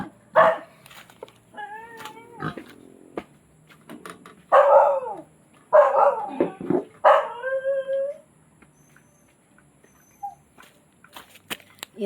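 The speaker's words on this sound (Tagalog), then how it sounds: "May sa baba pa, oh. Aso. Tagabantay." A guard dog kept downstairs barks in loud, irregular bursts mixed with whimpers and yips, with short pauses between outbursts and a quieter stretch near the end.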